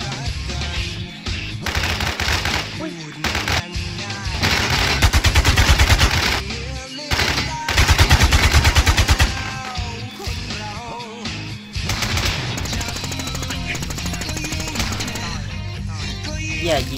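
Gunfire in the online shooter Infestation: sustained automatic bursts rattle loudly with short gaps and pauses between volleys, while a player talks in Thai over part of it.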